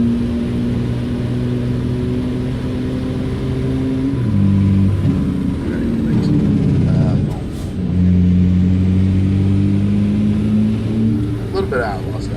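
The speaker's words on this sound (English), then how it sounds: "It sounds like a race engine" A 2500-horsepower truck engine in an outlaw trucking video game, tuned to sound like a race engine, holds a loud, steady droning tone that shifts pitch midway and then settles again, with no voice over it.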